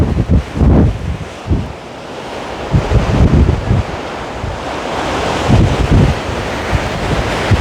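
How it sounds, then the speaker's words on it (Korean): Rough surf from Typhoon Khanun pounds the sea off Jeju, a continuous loud roar of breaking waves with heavy wind buffeting the microphone and repeated surges crashing in. "제6호 태풍 카눈이 북상하면서 제주 바다에도 거센 파도가 몰아치고 있습니다."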